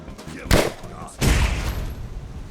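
Gunfire in Skyrim modded with Fallout weapons and legendary enemies, two loud sharp blasts about a second apart, the second with a longer rumbling tail.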